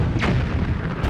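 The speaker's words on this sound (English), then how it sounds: "I think I just heard one of the cannons get destroyed." Cannon destruction in The Legend of Zelda: Wind Waker game audio: a short, dense boom with a burst of crackling debris, loud and close over a continuous low rumble.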